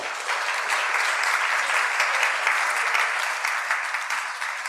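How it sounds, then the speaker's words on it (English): Sustained, dense applause from a conference audience for panel speakers, loud and even throughout with no voices over it. "Let's give our speakers a round of applause."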